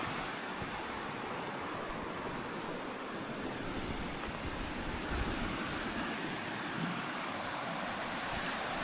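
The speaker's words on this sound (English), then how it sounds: "This is a fast flowing river." A high, muddy river flows fast past a wharf near a castle, making a continuous loud rushing wash mixed with gusts of wind noise on the microphone.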